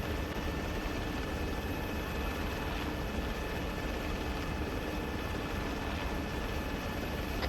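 A military helicopter flies in the Arma 3 video game with a Humvee slung beneath it, its rotor and turbine making a steady, dense drone with a faint high whine and soft periodic thumps, unbroken from start to finish.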